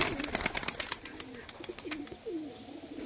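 Pigeons coo softly and repeatedly, low throaty calls over a background of light clicks and rustling.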